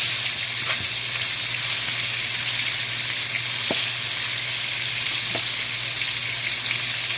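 Country fried chicken sizzles steadily in a pan, a continuous close hiss of frying oil with a few faint clicks and taps from handling, no talk.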